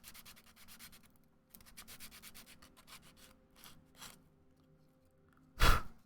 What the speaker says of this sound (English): So I can get rid of the paint using sandpaper.